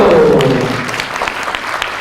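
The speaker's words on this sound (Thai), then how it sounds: "ปรบมือกับเบโดหน่อยเรย" A crowd claps together, the applause starting strong under a brief voice and then easing to scattered clapping.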